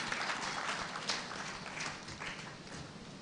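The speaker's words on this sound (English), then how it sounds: "Can we clap for Wairimo" Audience applause at an induction session for county executive committee members as a USAID health partnership lead walks to the podium, a steady wash of many hands clapping at moderate distance with no voices over it.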